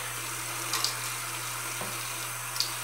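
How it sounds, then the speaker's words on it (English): Water runs steadily from a bathroom tap while a face is rinsed, giving a constant hiss with a low hum and a few soft splashes and drips, with no talking. "I love how nice that water dripping all the way down my face."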